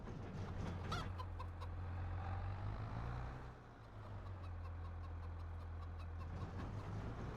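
Chickens cluck softly inside a cow barn, scattered faint calls over a continuous low machine hum that dips briefly midway, fairly quiet overall.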